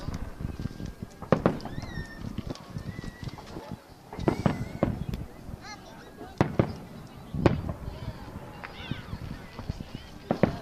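Fourth of July fireworks burst in sharp irregular booms and crackles, some near and loud, with a goose-like honking and people talking throughout.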